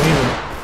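A short loud burst of gunfire in the Roblox war game Centaura, a close heavy blast that tails off quickly.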